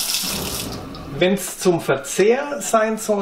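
Water runs steadily from a separate reverse osmosis tap in an off-grid home, a continuous splashing stream that carries on beneath a person talking.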